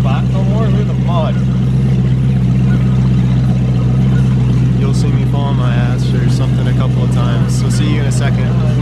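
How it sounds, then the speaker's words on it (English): A boat motor runs steadily throughout, a loud low engine drone on a lake, with people talking over it the whole time. "Sorry if you can't hear because of the boat motor"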